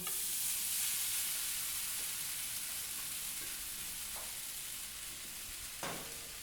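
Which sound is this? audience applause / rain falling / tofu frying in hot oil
tofu frying in hot oil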